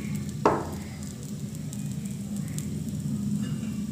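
Eggs frying in hot oil in a pan (kerahi), a steady sizzle running throughout, with a brief louder spit near the start as they hit the oil.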